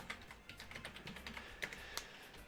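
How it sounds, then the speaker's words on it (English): Quick, light clatter of fingers typing on a computer keyboard, a steady run of close, soft key taps with a few sharper presses, alone and fairly quiet. "So type it out"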